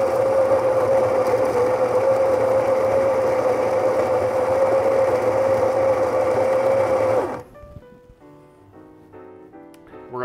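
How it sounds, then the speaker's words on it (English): An electric coffee grinder grinds coffee beans to a fine, salt-like size with a steady, loud high-pitched whine, then cuts off abruptly and a few quiet clinks follow. "I'm gonna step over here to my grinder and we are going to get some grinds in here"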